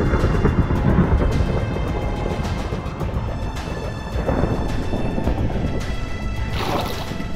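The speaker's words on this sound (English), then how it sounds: "But I finally realized it was just a lightning storm." Rumbling thunderstorm in VR Minecraft, with continuous low rolling thunder and rain-like noise throughout, swelling in a few louder crashes near the end, no voices.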